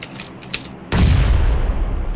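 A loud grenade blast in PUBG Mobile bursts in abruptly and rolls on as a sustained rumbling roar, after quieter faint activity at the start.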